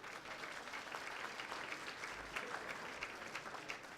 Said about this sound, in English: How about some applause for that?